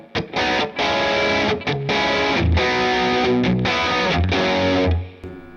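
Distorted electric guitar tone run through a Strymon Iridium or Universal Audio Lion amp modeler with flat EQ and reverb, playing loud sustained chords and riffs with brief gaps, ringing out at the end.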